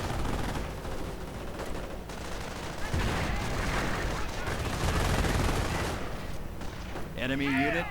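A WWII strategy video game delivers continuous gunfire and artillery, with dense machine-gun rattle and heavy booms forming a constant loud battle bed, while a voice comments over it near the end.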